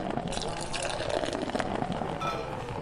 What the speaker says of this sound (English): That is a loud pour.